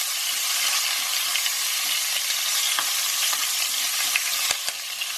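Whole cumin seeds, asafetida and green chillies frying and being stirred in hot oil for baingan masala: a steady, loud close sizzle with faint stirring scrapes and a couple of sharp taps near the end.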